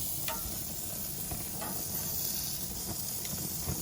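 A turkey burger sizzles in a frying pan with a steady hiss and scattered small pops and crackles, moderately close and with no talking.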